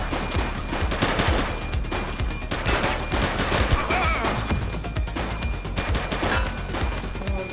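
A suspect firing shots in the police game The Precinct, dense rapid gunfire and crashing impacts filling the whole stretch, loud and continuous.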